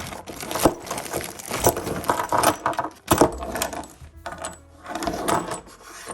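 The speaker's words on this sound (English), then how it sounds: "So now we're gonna unbox all the parts here, the rebuild kit." Metal parts from a rebuild kit for a 1946–48 Willys CJ2A Jeep steering bellcrank clink and rattle as they are unboxed, with irregular close knocks, jingles and scrapes of loose pieces handled without talk.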